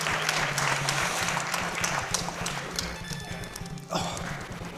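Spectators at a speedrunning marathon event clap in a scattered, rapid burst that carries under game sound and fades out toward the end.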